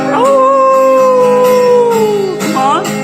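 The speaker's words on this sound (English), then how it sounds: "The dog park, trying to get the dogs to howl." Dogs at a dog park let out a loud, sustained howl that holds steady and then slides down, followed by a shorter rising howl, close by, with a voice faintly in the background.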